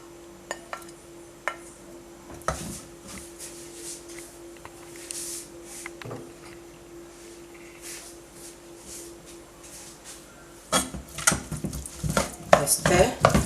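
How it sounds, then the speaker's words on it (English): A spoon clinks and scrapes around a pot of nkwobi with diced onion and shredded African oil bean, quiet intermittent stirring that grows busier and louder toward the end. "I stir."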